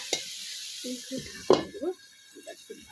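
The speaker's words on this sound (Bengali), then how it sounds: "ডাঁটাগুলো দিয়ে খুন্তি দিয়ে লেড়ে দিলাম" A spatula stirs moringa drumsticks in a pan, giving a couple of brief scraping clinks under a soft sizzle while a person talks nearby.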